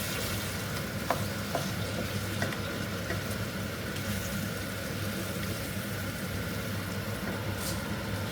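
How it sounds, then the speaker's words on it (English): Vegetable korma stirred in a pan over a steady low sizzle, with a few faint utensil knocks and scrapes, close and continuous. "Give that a mix up."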